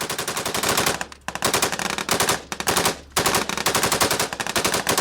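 Machine gun fire in combat in Afghanistan, rapid loud bursts hammering close by with short pauses between volleys.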